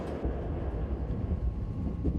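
Inside a slow Mugunghwa-class passenger train carriage, a low continuous rumble with faint rattling and clatter carries steadily throughout.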